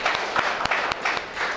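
Students in a classroom clapping for a classmate, a short burst of fairly loud, close, rhythmic claps from a small group.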